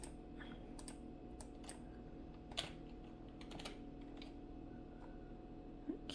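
Fingers type on a secondary computer keyboard with sparse, irregular key clicks. The taps are fairly quiet and close, over a steady low room hum.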